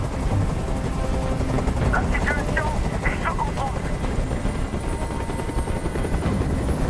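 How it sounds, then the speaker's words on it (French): A helicopter in the video game Detroit: Become Human drones loudly and continuously with rotor thumping, while a voice speaks briefly over it. "Je peux plus supporter ce bruit. Fais dégager cet hélicoptère, maintenant!"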